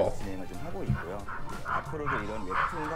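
A dog barking and yipping in bursts in the background, nearby and moderately loud, mixed under continuous talk and a livestream's commentary audio.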